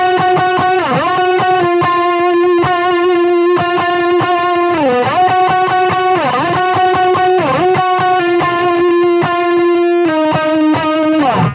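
Distorted electric guitar riff played through a wah pedal, with sustained notes and sliding bends repeating steadily and loud throughout, no voice.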